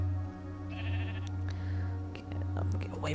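A sheep in a modded Minecraft survival world gives a short bleat, then fainter bleating and clicks follow over a constant low in-game hum, with no talking.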